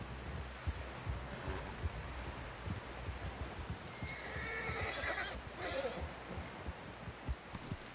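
A horse whinnies and its hooves clop in Red Dead Redemption 2, with rustling and thuds beneath, the whinny rising midway through a steady, fairly quiet bed of hoofbeats.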